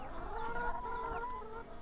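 Chickens on a small farm cluck and chatter softly, several overlapping calls rising and falling at a moderate distance over quiet background noise.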